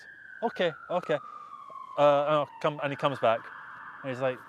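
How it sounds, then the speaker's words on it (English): An emergency vehicle siren wails steadily in the background on a London street, a long drawn tone running beneath a man's close conversational speech throughout. "that's putting me off the sirens there."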